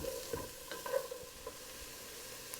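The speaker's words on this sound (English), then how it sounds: "I'm going to add my vegetables in with my oil. I'm gonna let these cook for a couple minutes until they begin to soften" Vegetables cook in olive oil with a faint, steady sizzle broken by a few soft stirring clinks and scrapes, with no talk.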